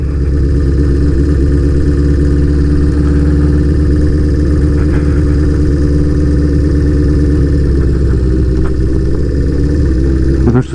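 A vintage motorcycle rides along a quiet road through a Georgia ghost town, its engine a loud, steady, low chugging drone held close for the whole stretch with only slight shifts in pitch.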